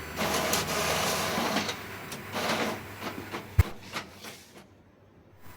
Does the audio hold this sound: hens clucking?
no